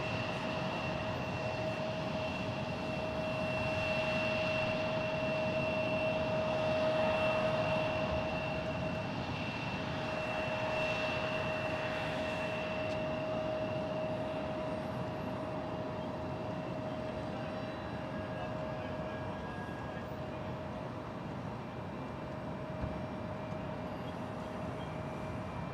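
A Frontier airliner arriving from Las Vegas lands at San Jose airport, its engines a steady, moderately distant roar with a sustained whine that swells slightly early on and then holds.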